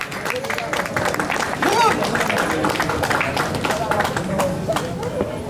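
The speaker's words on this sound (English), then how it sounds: "Yes, applause, ladies and gentlemen," Audience applause and crowd noise at a Maasai evening show at a beach resort in Zanzibar, steady clapping and murmur filling the whole stretch with a voice talking over it.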